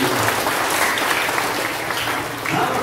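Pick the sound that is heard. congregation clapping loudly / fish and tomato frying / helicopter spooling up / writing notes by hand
congregation clapping loudly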